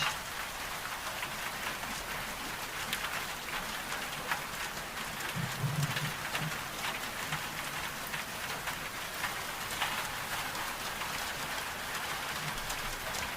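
Watercolour paintbrush swished and rinsed in a water jar, a steady close watery splashing and trickling with no pauses.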